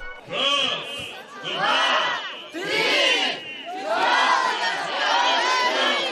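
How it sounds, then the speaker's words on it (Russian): A large crowd roars and cheers in sustained waves as Ded Moroz and Snegurochka appear at an outdoor New Year tree lighting, loud and close, with shouted voices swelling and dipping across the whole stretch. "Появление Деда Мороза и Снегурочки и их кыргызских прототипов Аяз Ата и Аяз Кыз встретили буквально овациями"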